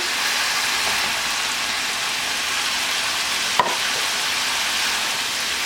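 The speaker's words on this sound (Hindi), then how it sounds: "अब इसमें आप ऐड करेंगे ये फ्राई किए हुए पोटैटो" Fried potatoes tossed in masala in a pan over a high flame, a steady even sizzle with one sharp clack of a utensil midway, no voices.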